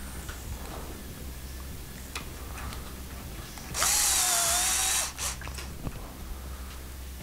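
A power driver tightens screws on an Arrma 6S RC vehicle during a servo and ESC swap, giving one loud whirring burst of about a second amid quiet clicks and handling noises.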